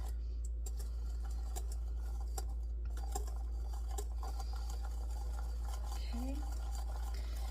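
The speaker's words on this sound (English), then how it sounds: "throw it into our egg and just slowly stir it in" A spoon or whisk stirs hot milk slowly into a thick egg mixture, making faint, irregular scraping and ticking sounds against the bowl over a steady low hum, with a brief spoken word.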